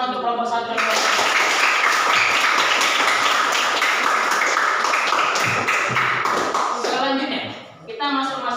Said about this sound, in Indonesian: tepuk tangan untuk kelompok 1 dan kelompok 2